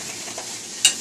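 Onions sizzle softly in a pan for a chopped pork roast burger, a low steady frying hiss with one brief sharper click near the end, no speech.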